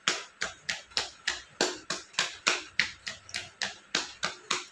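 Hands patting on the knee during a massage for front-knee pain, about fifteen crisp, evenly spaced slaps in a steady rhythm, close and moderately loud with no talking.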